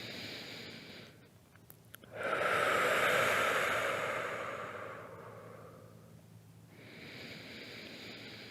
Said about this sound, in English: take 5 nice, long, deep breaths